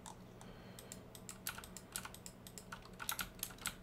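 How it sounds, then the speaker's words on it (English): Clicks from a computer mouse and keyboard come from a Minecraft session, a quick irregular run of sharp close taps that thickens toward the end, faint and with no voices over them. "because I'm right clicking right now"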